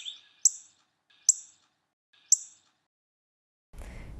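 Wild bird contact calls, three short sharp chirps spaced about a second apart, clear and fairly close against quiet, then a burst of rustling noise at the end.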